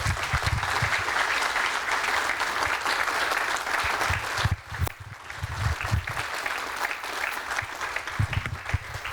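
An audience at a Good Scout Award ceremony gives sustained applause, a dense, even clapping that dips briefly midway and then picks back up.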